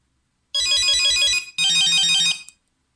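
Nokia 6110 mobile phone playing its polyphonic-style ringing tone through its small speaker, two loud bursts of a repeating electronic melody with a brief gap between them, close and alone.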